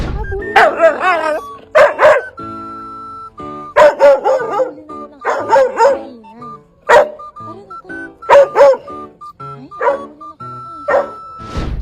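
A dog barks repeatedly in loud, close bursts, with whining and whimpering between the barks and short pauses throughout.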